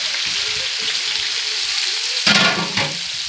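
Ginger, garlic and onion fry in a large pot while cooking for a crowd of about a hundred, a steady sizzle that swells into a brief loud hissing burst near the end.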